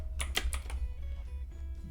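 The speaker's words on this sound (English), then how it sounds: "is my keyboard noticeably noisy on stream?" Typing on a noisy computer keyboard, a quick run of four or five sharp, close clicks followed by a few softer taps over a low steady hum.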